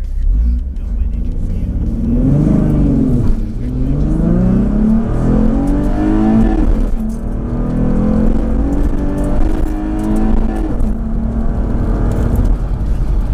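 A stock car fitted with a cold air intake and axle-back exhaust accelerates hard from 0 to 80, its engine note climbing loudly and repeatedly through the gears, dropping briefly at each shift before rising again.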